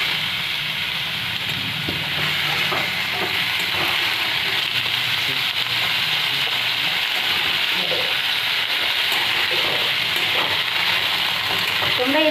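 Pumpkin stirred and fried in a pan for a rural Bengali curry with potato and Malabar spinach, a loud continuous sizzle with constant crackle and soft scraping of the spoon, close and steady throughout, with no talking.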